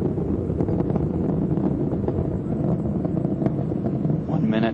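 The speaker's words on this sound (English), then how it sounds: "All three liquid-fueled engines are back at full throttle." Space Shuttle Atlantis with all three liquid-fueled engines at full throttle during ascent, heard as a dense, steady roar with wind-like rushing; a voice talks over it.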